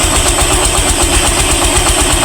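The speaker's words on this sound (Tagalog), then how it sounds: "Saka tahimik yung kanyang makina." Yamaha YTX 125 motorcycle engine idling steadily up close, a loud, even mechanical drone with a regular low pulsing beat and no voices.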